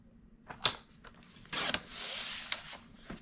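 Cardstock trimmed to size for a simple craft project, heard as a few short scraping rubs and then a longer steady rasping slide, close and fairly quiet.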